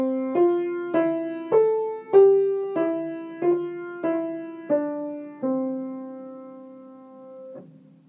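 A slow cantus firmus melody of single sustained notes played one after another, about nine evenly spaced tones, each decaying, the last one held long.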